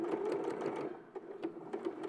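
A sewing machine stitches fabric in short, quick bursts. Its rhythmic needle clatter pauses briefly midway, then resumes, at a fairly soft level without speech.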